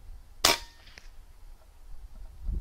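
A single sharp report from a Wrangler Phenom PCP air rifle fitted with a moderator, a sudden loud crack near 0.5 seconds that fades quickly, followed by quiet with a faint low bump near the end.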